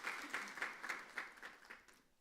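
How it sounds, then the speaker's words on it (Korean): Church congregation clapping to welcome a newly registered member during a Sunday morning service, a short faint patter of applause that fades away within a couple of seconds. "잠깐 일어나셨다가 우리 한번 박수하도록 하겠습니다."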